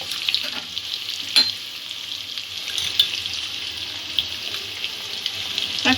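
Spinach and potato curry with salt and turmeric frying in a pan while being stirred, a steady close sizzle with scattered scraping clicks of the spoon against the pan throughout.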